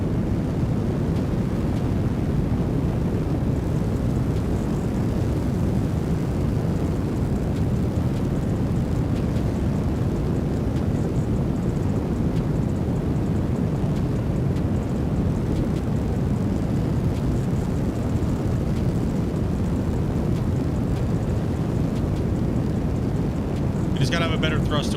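Jet engines on a chunky, underpowered spacecraft in Kerbal Space Program 2 give a steady, loud, continuous rumbling roar with no change in pitch, holding for the whole stretch, with a brief rattle near the end.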